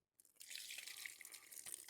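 A steady rush of cold water pouring into a pot holding jars of marinated zucchini, with a splashy, bright hiss that begins abruptly and continues without pause.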